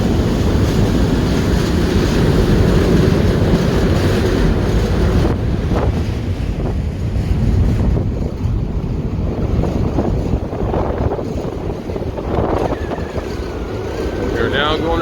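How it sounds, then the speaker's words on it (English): A boat's water jet churns and sprays on open blue Gulf water far offshore, giving a rushing roar heavily buffeted by wind on the microphone. The surging wash and gusts continue throughout at close range. "Now we're cruising back. The jet's kicking up water."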